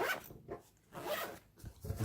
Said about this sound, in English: Zip it, and we're set.